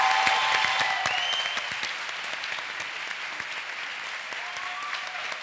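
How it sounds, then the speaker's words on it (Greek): Sustained audience applause fills a hall at an open public discussion on HIV, loud and dense at first, then easing slightly while continuing steadily with no talk. "Δεν υπάρχει καλύτερο από το να πνίγεται η φωνή του παρουσιαστή συντριστή από χειροκροτήματα."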